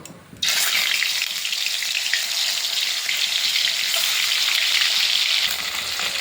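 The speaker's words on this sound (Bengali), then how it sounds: "একে একে মাছগুলো দিয়ে সব ভেজে নেব।" Tul fish hits hot oil in a wok and breaks into a loud, close, continuous sizzle that starts abruptly and holds steady throughout, with faint crackling spatter and no voices.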